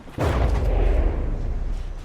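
A single deep boom erupts in a naval battle video game between ships such as a longboat and a dreadnought, followed by a rumbling, crackling tail that slowly fades.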